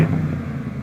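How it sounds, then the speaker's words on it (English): A 2021 BMW M550i V8 engine heard from outside the car, a short, loud, low mechanical hum holding steady for under a second with no voices. "This M550i has a glorious V8 engine, and it sounds nice on the outside."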